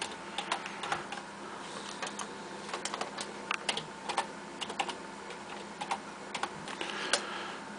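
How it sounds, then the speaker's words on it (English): Steady typing on a computer keyboard at a desk, a run of close, crisp key clicks in an uneven rhythm with small bursts and short pauses, no voices. "Let's just type something here."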